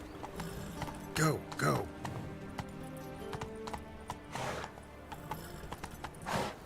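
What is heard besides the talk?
horse galloping hooves in video game The Witcher 3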